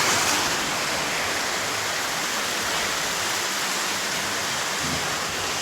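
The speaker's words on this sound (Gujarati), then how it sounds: "સારો વરસાદ આવે તો થવાનો એક સારો વરસાદ આવે" Heavy rain roars steadily and densely, a constant loud wash of noise with no pauses and no voices.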